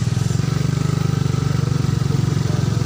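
A motorcycle engine chugs steadily on a long ride to a hot spring, a close, even rhythmic putter with no pauses.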